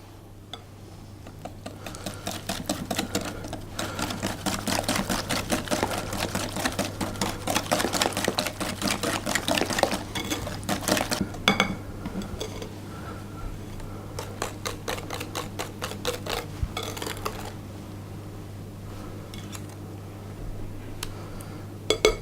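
Eggs being beaten one at a time into chocolate mint brownie batter, a fast steady rattle like a whisk or mixer working against the bowl for about eleven seconds, then easing into lighter intermittent clicking over a low steady hum.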